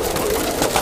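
Racing pigeons coo briefly and loudly up close, a short throaty murmur lasting under a second.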